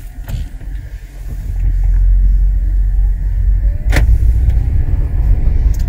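A 2015 Honda Vezel Hybrid Z Package idles with a steady low rumble just after being shifted from park through neutral into drive. A couple of brief clicks break the smooth hum.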